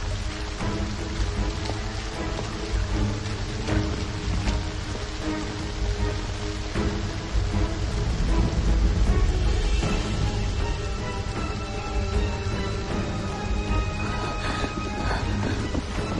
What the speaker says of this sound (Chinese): 这大风大雨的哪里受得住啊